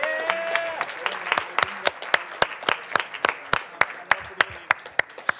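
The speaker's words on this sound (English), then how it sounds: "So let's give a round of applause to every single hacker who finished." A room of people applauds hackathon participants after their project presentations, many hands clapping in a sustained, moderately loud burst with sharp individual claps standing out throughout.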